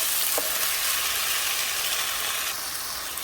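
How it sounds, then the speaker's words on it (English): Ginger and tomatoes sauté in a hot pan with a steady, close sizzle and crackle that holds at an even level throughout, with no voices. "I'm just going to let this saute for another 10 minutes"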